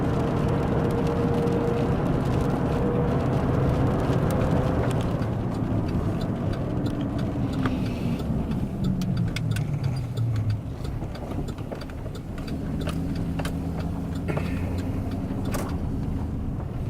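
A car drives along a country road in rain and mud, a loud, steady engine drone with the low rumble shifting as it goes, plus scattered faint knocks and clicks.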